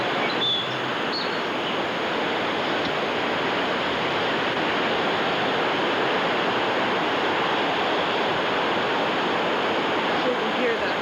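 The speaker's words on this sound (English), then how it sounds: "So you can hear the rushing water." Rushing water at the base of a dam in Parkview, Georgia, a dense continuous roar like heavy surf that fills the whole stretch evenly, with no clear speech.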